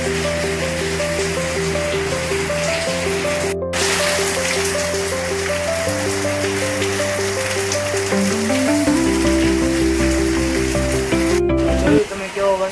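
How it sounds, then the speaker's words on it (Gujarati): Rain falls as a dense, continuous hiss throughout, partly masked by music with a steady melody playing over it. "હું તમને એની પણ ક્લિપ દેખાડું કે વરસાદ કેવો છે."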